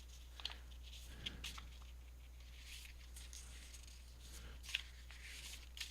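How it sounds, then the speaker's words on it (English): A stack of monster cards for a Dungeons & Dragons style board game being shuffled, soft papery riffles and flicks, quiet and close over a low steady hum. "So basically I'm just going to shuffle these monster cards"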